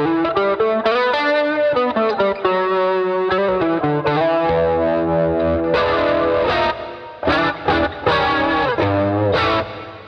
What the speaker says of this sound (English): Scene three will switch on the comp,